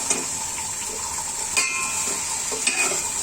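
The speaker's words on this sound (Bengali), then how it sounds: "এটা একদম সিম্পল একটা সবজি ভাজি হচ্ছে" Cauliflower and potato pieces fry in a pan with a steady hissing sizzle, interrupted by a few sharp clinks of a utensil against the pan.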